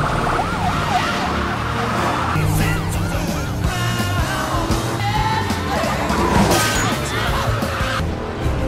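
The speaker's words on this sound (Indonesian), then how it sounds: "aksi kejar-kejaran dengan mobil polisi pun terjadi" A car chase with a police patrol car, its wailing siren sweeping up and down loudly alongside road noise, with a voice talking over much of it.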